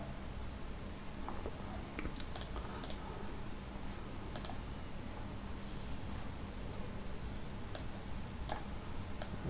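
Code is typed on a computer keyboard, with sparse, irregular key clicks and a few sharper taps over a quiet room hum, close and faint.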